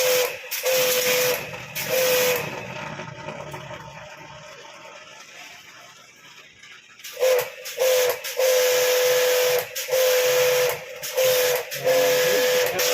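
Pressure washer water spray blasting an air conditioner during servicing, loud broadband hissing jets in repeated bursts with a steady whine, pausing briefly midway and resuming in short on-off spurts.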